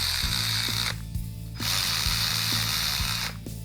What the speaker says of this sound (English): We're just going to use the electric 1/4-inch ratchet just to run these down.